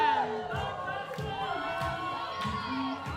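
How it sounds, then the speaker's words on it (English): Audience at a Latin ballroom dance competition claps in a steady beat of roughly one clap every 0.6 seconds, with cheering voices and music filling the hall around the rhythmic clapping. "Some clapping from the audience really helping, sort of boost the competitors"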